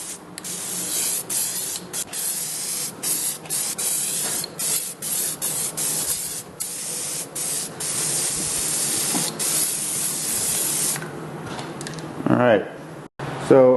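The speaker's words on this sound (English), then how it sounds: "we've got our primer here. Spray some light coats on that." Spray can laying light coats of primer onto car wheels, with repeated close hissing bursts of varying length separated by short pauses, and a person speaking briefly between them.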